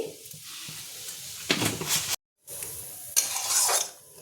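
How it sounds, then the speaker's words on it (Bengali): Gravy bubbles in a pan after sugar goes in and a spoon stirs it, making a steady low simmer with two bursts of louder scraping and clattering, cut by a brief silence. "একটু নেড়ে দিলাম চিনি দেওয়ার পর"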